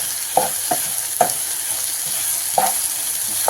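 Ridge gourd sautéing in oil for a varuval, a steady close sizzle punctuated by a few distinct scraping strokes of a spoon stirring through the pan, with no speech.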